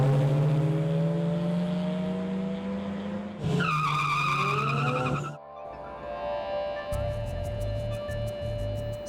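Cars in an illegal street race on Macapagal Boulevard in Pasay at night produce loud engine roar and a long, close tire screech, then higher-pitched revving as an engine accelerates away.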